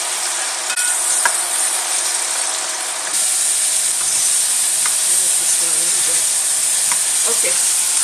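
Onion fries in a pan, making a steady, loud sizzle with occasional small pops and crackles that runs the whole time.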